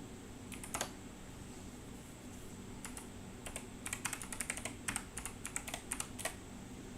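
Typing on a computer keyboard while working on printer firmware in a fabrication lab, with irregular bursts of key clicks, quiet and close, over a steady background hum and no talk.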